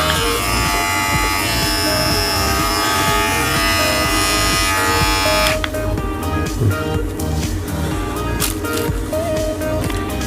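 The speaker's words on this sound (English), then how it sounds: "So let's see the actual trimmer here." A Philips Multigroom MG7710 all-in-one trimmer runs with a steady loud electric buzz held close. Partway through, its tone shifts to a rougher rattling hum as it keeps going.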